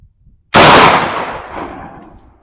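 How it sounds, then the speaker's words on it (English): A single 12 gauge shotgun slug shot outdoors: one sharp, very loud blast after a brief quiet moment, followed by a long decaying echo. "And here is the third shot,"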